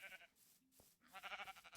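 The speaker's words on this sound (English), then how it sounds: "is trying to find a sheep." A sheep bleats twice in the FTB Skies 2 video game, short wavering cries separated by a brief pause, fairly quiet with nothing else over them.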